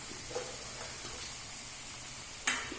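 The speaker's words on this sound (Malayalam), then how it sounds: "നമുക്ക് 2 മീൻ വറുക്കാം." A quiet, steady sizzle comes from fish frying in oil in a pan for a Thrissur fish curry meal. A brief clatter of the pan sounds late in the short stretch.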